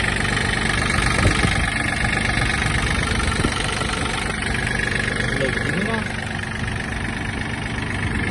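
A Japanese Yanmar EG-230 mini tractor engine idles with a steady, even drone and light vibration, heard close and continuous throughout.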